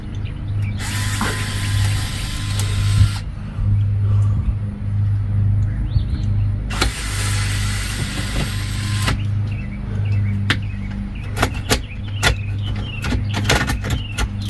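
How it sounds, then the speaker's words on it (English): Power drill or driver spinning out screws on a lock and keyway assembly, two long whirring bursts followed by several short sharp zips and clicks, close and loud over a steady low hum. "we got a few more screws here to remove"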